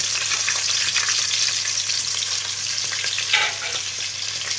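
Ginger, garlic and green chillies fry in a pan for chilli chicken, giving a steady, loud sizzle with light stirring scrapes and a low hum underneath.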